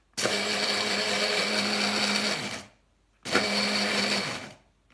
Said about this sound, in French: vous voyez là mon petit mixeur? Hop, voilà, donc on enclenche et on mixe